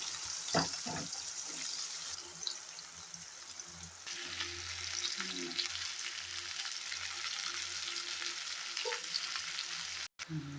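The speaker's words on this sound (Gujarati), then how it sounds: "શાક ચડવા આવ્યું છે હવે પાકવા દઈએ" Okra and potato curry cooks in hot oil without water, a steady close sizzle and crackle running throughout with a few faint utensil knocks, no speech.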